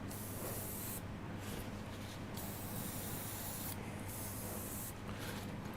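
An airbrush sprays gold paint during woodturning work, a steady soft hiss running throughout with brief dips where the trigger eases off, close and alone.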